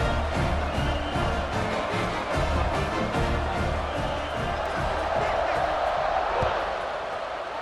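A large stadium crowd in a college football video game roars steadily throughout, a dense wash of cheering and chatter with occasional thumps and whoops rising out of it.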